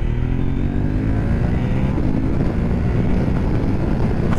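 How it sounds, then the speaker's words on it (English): A 2023 KTM 890 Adventure motorcycle riding onto a freeway, its steady engine drone humming under loud wind rush from the rider's helmet position, continuous and close with no talking. "Let's get this bike on the freeway and see how the wind buffeting is and everything like that."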